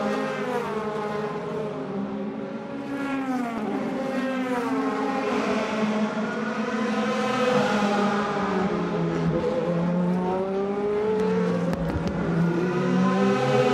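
A DTM race car at Moscow Raceway during 2013 qualifying, the silver car of Adrien Tambay, drives past with a loud, continuous engine note that rises and falls through gear changes, alone with no talk.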